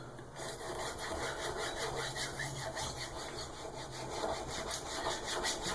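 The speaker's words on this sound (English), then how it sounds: "we could sharpen down over here so your stone kind of wears evenly" A knife sharpened freehand on a sharpening stone, its blade rasping in a continuous gritty scrape of steady back-and-forth strokes, close and fairly loud, with no talking.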